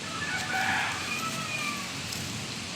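A rooster crows nearby, a drawn-out cock-a-doodle-doo with a rising then falling tone, amid faint farmyard clucking.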